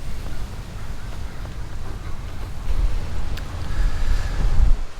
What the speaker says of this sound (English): It is a little windy, but I will try my best to capture this beautiful area.